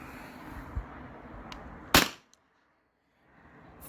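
A Beeman air pistol fires once on a CO2 tank into a chronograph: one sharp, loud crack over faint handling noise, then near silence.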